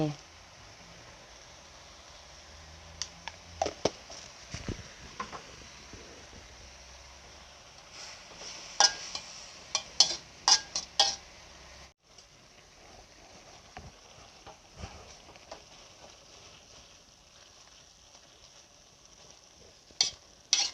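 Amaranth greens are stir-fried with fermented soybean sheets in a pan, giving a faint steady sizzle broken by intermittent scraping and clacking from the spatula, while someone talks throughout.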